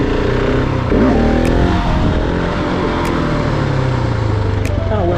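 A motorcycle accelerates in third gear across a lot used for stunt riding. The engine roars loud and steady throughout, with its pitch rising and shifting, and it is heard up close.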